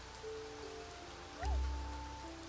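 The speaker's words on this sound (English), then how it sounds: "It's raining." Rain patters steadily on a surface in an even, close wash, with a brief low thump partway through. No one speaks.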